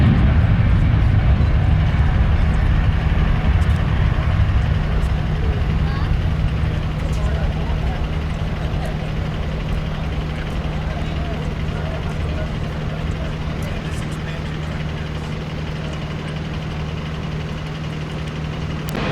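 A Boeing 777 airliner taxiing at Chicago O'Hare produces a loud, continuous engine drone with a low steady hum that fades slightly over time, with talk in the background.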